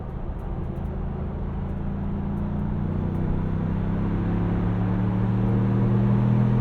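A 2021 Ford Bronco Badlands 2.3L four-door with a seven-speed manual pulls hard in third gear, a steady engine drone slowly climbing in pitch as it accelerates, heard from inside the cabin with no talk.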